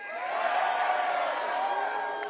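A rally crowd in Rock Hill, South Carolina cheers and whoops steadily for a couple of seconds, a dense sustained roar of many voices that holds level before easing slightly.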